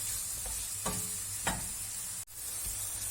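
Onions sizzle steadily in a hot pan, softening, with a few soft stirring scrapes and a brief clunk near the end.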